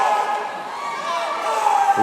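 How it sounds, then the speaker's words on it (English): Spectators cheer swimmers on at a regional swimming championship, a steady wash of crowd noise with a few sharper whistle-like shouts rising above it, holding at the same level throughout. "Keep that noise going for your swimmers. Keep cheering them on."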